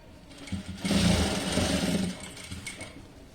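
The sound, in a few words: sewing machine stitching a puff sleeve frock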